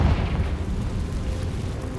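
A Confringo blasting-spell explosion in the Hogwarts Legacy video game, a loud deep booming burst that rumbles on for a couple of seconds.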